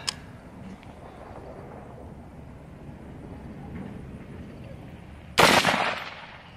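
A rifle gunshot from Hornady Black 105 grain 6mm ARC fired out of a Mark 12 at a brake rotor target outdoors: a faint crack at the start, low wind and rumble, then one loud, sharp close report that rings out.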